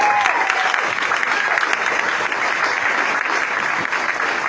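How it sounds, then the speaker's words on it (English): Audience applause at a live stage show, a steady dense wash of clapping and crowd noise filling the whole stretch, loud and sustained without a break. "Let's give him one more big round of applause."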